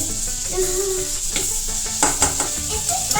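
Butter melting and sizzling in a pan for a pasta sauce, a soft, steady hiss with scattered clinks and scrapes of a utensil against the pan, close by.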